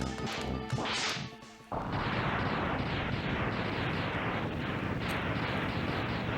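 A missile weapon firing and exploding in the SNES game Mega Man X: a short burst of chiptune-like tones, then a loud, sustained crackling blast noise that rumbles on.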